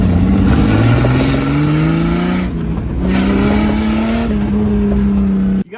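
The engine of a 5-speed Jeep Grand Cherokee ZJ revs loudly and close by, its pitch rising and falling in a few sweeping pulls before it cuts off abruptly. There is no talking.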